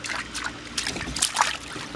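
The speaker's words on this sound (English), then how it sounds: "Show him how you splash." A toddler splashes water in his first small backyard pool, with light sloshing and trickling bursts, the most distinct splashes near the end, close by at moderate loudness with no talking.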